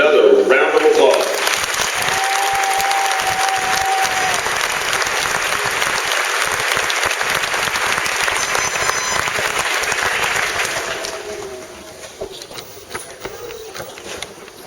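A crowd at a military graduation ceremony for soldiers and civilians gives a loud, sustained round of applause that fades to scattered clapping near the end, with a voice over a PA at the start.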